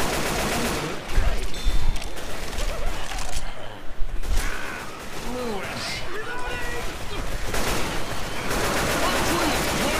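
Dense, continuous gunfire in Left 4 Dead 2, a steady rattle of overlapping shots throughout, with voices talking over the shooting.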